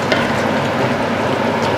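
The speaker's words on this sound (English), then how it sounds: "we need to let that simmer now for about 3 or 4 minutes" Cheesy chilli in a pan, with tortilla chips softening in it, simmers with a steady, close sizzle and no break over the short stretch.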